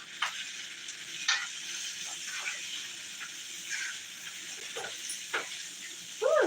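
Food frying in butter while being stirred, a soft steady sizzle broken by scattered scrapes and clinks of the utensil, with a louder burst near the end.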